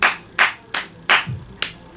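Five sharp hand claps ring out at an uneven pace, each a crisp, close, fairly loud slap with a short decay, standing alone without voices.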